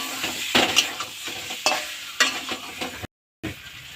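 Potatoes are fried and stirred in a pot for egg and potato curry (dim aloo dalna). A steady sizzle runs under repeated scraping strokes of the spoon, and the sound cuts out for a brief moment near the end.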